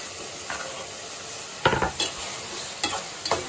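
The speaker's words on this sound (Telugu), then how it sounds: "మనం కట్ చేసి పెట్టుకున్న టమాటా ముక్కలు కూడా వేసుకుందాం" Chopped tomatoes go into a pan of frying onions for a drumstick egg curry, under a soft background sizzle. Several distinct clanks and scrapes of a spoon against the pan come in short bursts, with no speech.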